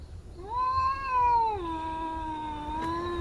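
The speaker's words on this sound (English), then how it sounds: "Got some cat action going on here." A cat gives a long, drawn-out meow that rises, holds and dips into a lower wavering tail, close and clear with a quiet outdoor murmur behind it.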